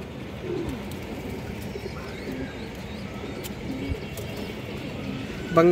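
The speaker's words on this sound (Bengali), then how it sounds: "এটা মাদি কবুতর" A female pigeon among a keeper's loft of high-flying pigeons gives soft, low coos amid steady background hiss and occasional faint bird chirps.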